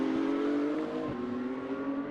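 A BMW M4 GT3 race car from 2022 at the Nürburgring 24-hour race drones past at high revs, a loud steady engine note with a slight pitch shift, no talk.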